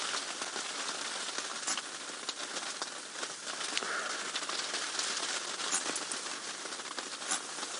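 Steady rain pattering on a safari vehicle during a game drive, a dense, even hiss of drops that holds at a constant level throughout with no voices.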